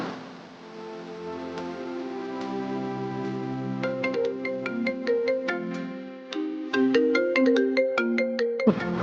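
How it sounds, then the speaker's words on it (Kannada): A phone ringtone plays an incoming-call melody, a bright tune of repeating plucked notes and chiming chords that grows busier and louder toward the end, with no talking over it. "ರಮೇಶ್ ಯಾಕೋ ಕಾಲ್ ಮಾಡ್ತಾ ಇದ್ದಾನೆ?"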